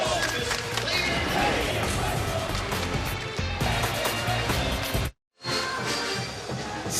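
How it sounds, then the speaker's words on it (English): A sellout college basketball crowd in Logan, Utah, at Utah State vs San Diego State, cheers and claps in a dense, loud roar that breaks for a brief instant of silence near the end before resuming. "The crowd's in it"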